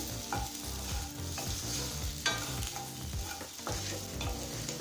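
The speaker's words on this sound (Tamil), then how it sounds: "மேலே லேசாக கலர் மாறுற வரைக்கும் வதக்கிக்கலாம்" Boiled, peeled baby potatoes sauté in oil in a pan, a close steady sizzle with a low rumble beneath and occasional scrapes as they are tossed.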